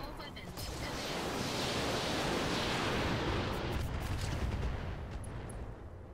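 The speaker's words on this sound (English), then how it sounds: "Let's drop some missiles on this guy." Barrage of missiles fired at an enemy mech in the BattleTech mod Roguetech, a loud, continuous rumbling roar of launches and blasts that swells and holds for several seconds.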